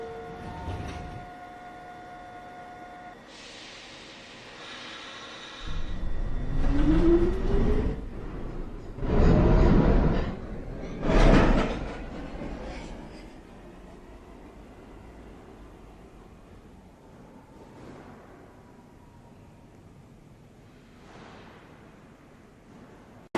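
Automated NYC subway 1 train at Fulton Street, with quiet station hum and a brief chime, then loud rumbling and squealing wheel bursts as the train moves off, fading to a distant hum.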